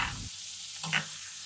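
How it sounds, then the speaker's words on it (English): Pork tenderloin sizzles in a pan as it is fried and basted with butter, garlic and thyme: a short burst of frying hiss, then a quieter steady simmer with a brief spattering flare near the end. "And you should do this pan frying and basting for a total of about 4 to 5 minutes."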